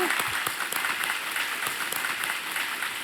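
Studio audience clapping steadily for about three seconds on a TV quiz show, a dense patter of many hands that fades slightly toward the end.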